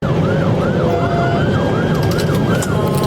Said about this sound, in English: You know the siren already be up.